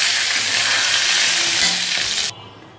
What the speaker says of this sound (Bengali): এবার এই মুড়োগুলো ভাজা হয়ে গেছে